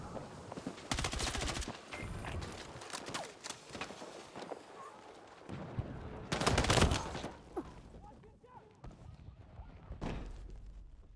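Battlefield 6 gunfire, with bursts of rapid shots and louder single blasts over busy battlefield noise, some close and some distant, with brief speech.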